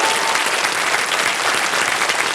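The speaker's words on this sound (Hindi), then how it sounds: "एक बार तालियां बज जाएं इनके लिए।" Studio audience applause on the Indian quiz show Kaun Banega Crorepati, a dense, loud, unbroken wash of clapping that fills the whole short stretch.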